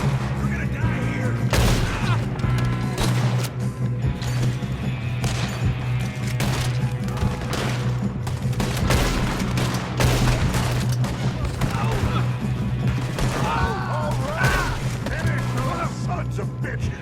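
Heavy gunfire in a Red Dead Redemption 2 shootout, with dense bursts of shots and booms going on without a break over a low musical drone, and voices shouting through the fight.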